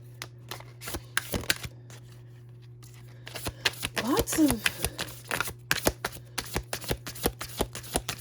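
Tarot cards being shuffled by hand, a run of crisp riffling and flicking bursts with soft card slaps, close and fairly loud. A low steady hum runs underneath throughout.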